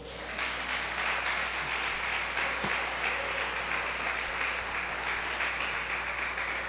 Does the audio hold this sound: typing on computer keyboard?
no